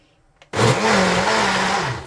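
A kitchen blender starts abruptly and runs steadily at high speed, its motor whine loud and close with a slightly wavering pitch.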